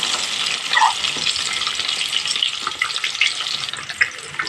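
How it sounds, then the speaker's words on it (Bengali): Steady, close sizzling and crackling of eggs frying in a hot pan, with a few faint clinks, and no voices. "উল্টিয়ে দিয়ে ডিমটা ভেজে নিতে হবে"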